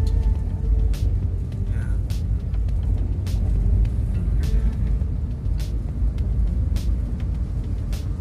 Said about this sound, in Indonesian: Banyak mobil-mobil besar lewat jalur sini ya